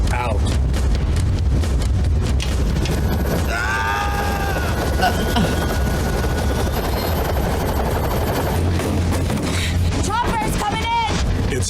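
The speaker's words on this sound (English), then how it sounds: "Chopper's coming in!" Helicopter approaching in a 1991 action film scene, its rotor rumble loud and steady throughout, mixed with movie sound effects and voices reacting over it.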